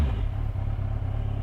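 Yamaha FZ6R 600cc four-cylinder motorcycle engine idling steadily up close, a loud, even low rumble with a slightly uneven pulsing throb and no talk.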